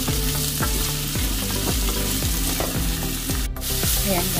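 Quinoa sautés in hot olive oil, a steady close sizzle broken by regular rhythmic scrapes of a utensil stirring the pan, with one brief louder knock near the end.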